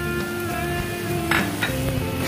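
Smashed potatoes sizzle in a pan as chili flakes are mixed in, a loud, steady close frying hiss with a couple of brief stirring scrapes and a faint tonal hum beneath.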